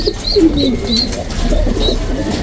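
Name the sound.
black tiger racing pigeon cooing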